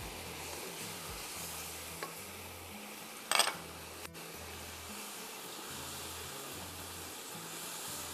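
Fennel seeds tipped into a hot pan for vegetable and chicken pulao, giving a brief sharp sizzling burst over a faint steady hiss and low background hum, followed by a small clink.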